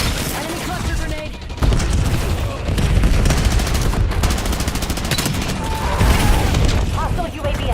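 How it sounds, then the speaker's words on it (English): Cluster grenade explosions and rapid gunfire rip through a first-person shooter match, dense fusillades and booms under game announcer callouts, loud and nearly continuous with a brief lull before the blasts resume. "Enemy cluster grenade."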